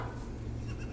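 A goat among bucks in a stable gives a short bleat, lasting about a second, close and fairly quiet.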